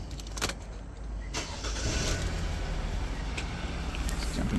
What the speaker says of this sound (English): So I'll just start this one up for you.